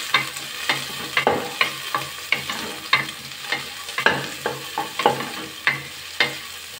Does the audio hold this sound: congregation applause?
no